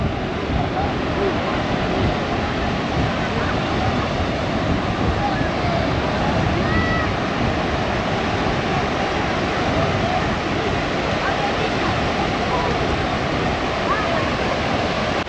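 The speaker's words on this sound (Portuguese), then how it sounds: "Então o mar aqui, como em toda a orla de Santos, as ondas são bem fraquinhas aqui na parte mais rasa." Gentle waves wash steadily onto Gonzaga beach in Santos, a continuous broad surf hiss with wind noise, loud and unbroken throughout with no distinct individual breakers.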